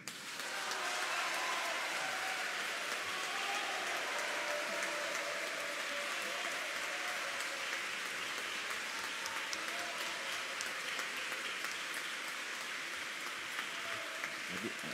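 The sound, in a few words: applause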